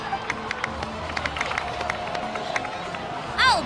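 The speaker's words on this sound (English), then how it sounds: "please give another round of applause for them" A crowd cheers and claps in Genshin Impact in a steady wash of noise with scattered shouts, and a rising whistle-like tone sweeps up near the end.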